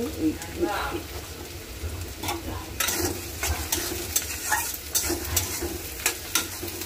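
Chopped green chilies are stirred into a hot pan, sizzling steadily while a spoon scrapes and clatters in an uneven rhythm, with voices talking alongside.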